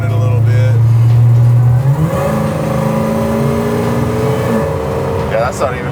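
A car engine accelerating hard with a deep rising roar, heard from inside the cabin, said to resemble a ZL1 Camaro, loud and sustained as the revs climb and shift in pitch.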